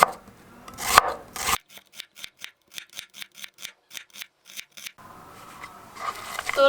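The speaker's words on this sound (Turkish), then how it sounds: "Soğanımızı yarım ay şeklinde böyle olabildiğince ince ince doğrayalım." A knife slices steadily through an onion on a board into thin half-moons, about a dozen crisp, evenly spaced cuts in a quick rhythm, close and clear, with heavier chopping noises before and after.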